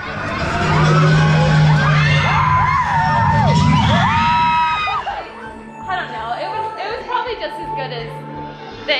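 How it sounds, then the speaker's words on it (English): Riders in the Tower of Terror elevator ride at Tokyo DisneySea scream and shriek together loudly in high wavering cries, then the screams trail off into scattered voices and chatter. "I screamed probably the loudest in that entire elevator."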